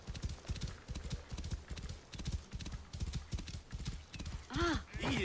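Rapid, steady clip-clop of a horse's hooves galloping in Assassin's Creed Origins, set in ancient Egypt, loud and close throughout, with a whinny near the end and no speech over it.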